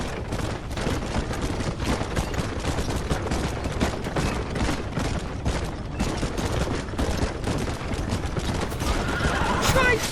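Rapid gunfire rattles through a Red Dead Redemption wagon chase, a dense, continuous barrage mixed with horse hooves and whinnies, with voices shouting over the commotion.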